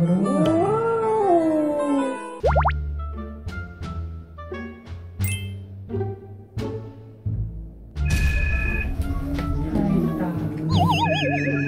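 A big cat cub's high, wavering cries, loud and close, repeating with short pauses over a busy, cluttered background during a health checkup.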